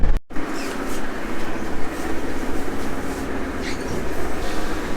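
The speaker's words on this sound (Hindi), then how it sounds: "यहाँ की जो मेट्रो है ना बहुत ज़्यादा ही आवाज़ करती है।" An old underground metro train on the green line runs with a loud, continuous rumble and rattle that stays heavy and unbroken throughout, with no voices.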